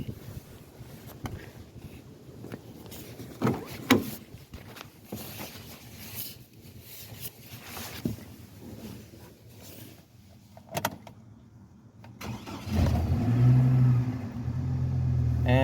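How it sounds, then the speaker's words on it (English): Chevrolet Colorado pickup with a no-crank fault, freshly repaired throttle body, heard at first as faint shuffling and clicks, then the engine catches and settles into a steady, louder idle near the end. "Let's start this bad boy up and see if our throttle body is working."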